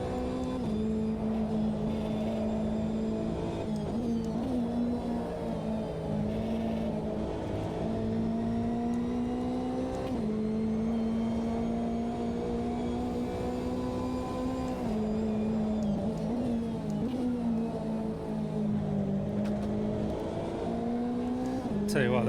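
A GT3 race car in the Automobilista 2 sim racing game, on the Donington circuit against AI opponents, drones steadily at high revs through the whole stretch, with its pitch rising and dropping through gear changes. Someone talks over the engine.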